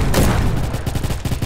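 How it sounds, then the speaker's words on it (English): Rapid rifle gunfire in the Roblox shooter Bad Business, a loud burst of quick repeated shots with a heavy opening blast followed by a steady rattling rhythm. "it's not a machine gun, it's a rifle."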